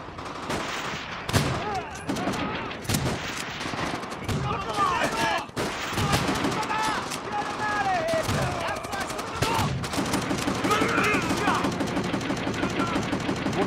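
Gunfire in Call of Duty: World at War, a World War II shooter campaign level, with rapid bursts and scattered loud shots running throughout, mixed with battlefield noise and occasional voices.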